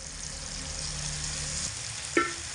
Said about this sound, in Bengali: এখানে পঁচিশ গ্রাম মতো পোস্ত বাটা রয়েছে সেটা দিয়ে দিচ্ছি